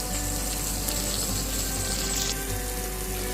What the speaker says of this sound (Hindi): इस टाइम पे मैं इसमें थोड़ा सा पानी ऐड करूँगी